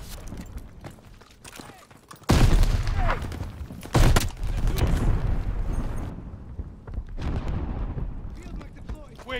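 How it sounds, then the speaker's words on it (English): Grenades explode amid gunfire in Call of Duty Vanguard, with two heavy booms a couple of seconds apart followed by rumbling battle noise while shouted voices carry on over the action. "Incoming grenade!"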